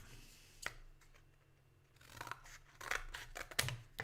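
Scissors snip through a cardboard square at close range, a few crisp cuts bunched toward the end with quiet gaps between, and no talking.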